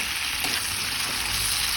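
Ampalaya (bitter gourd) sautéing in a pan gives a steady, close broadband sizzle and crackle with no break, plus faint scraping stir sounds and no talking.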